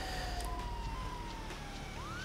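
Police siren in the video game GTA 5, a loud wailing tone that glides steadily and then sweeps upward near the end, over a constant engine-like rumble, with no talk.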